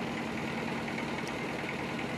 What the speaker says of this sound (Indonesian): Ini dihidupkan. Jadi ada dua mesin selip di sini.